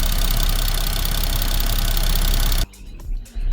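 A Ford Mustang engine idles with twin turbos and newly fitted GT500 fuel injectors, a steady, loud, close drone with a fine ticking texture that cuts out abruptly near the end, leaving a few faint bumps.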